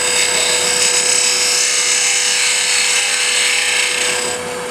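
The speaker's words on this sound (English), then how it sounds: "Take a multi-tool, and I'm going to cut this down a good bit." Oscillating multi-tool cutting into an ambrosia maple wood jar part, a loud, steady high-pitched buzzing rasp that holds throughout before easing slightly at the end.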